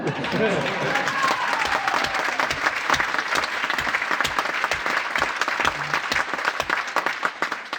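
Sustained audience applause fills a political rally hall at a Florian Philippot European election meeting, dense and loud throughout with crowd noise and no pause.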